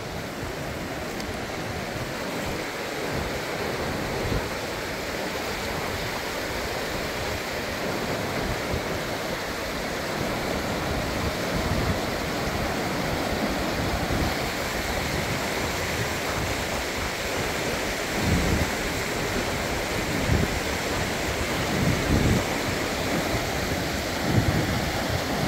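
The Psezuapse river flows steadily through Lazarevskoye in Sochi, a dense, even rush of water close by, with brief splashes and gurgles rising now and then over the constant roar; no one speaks.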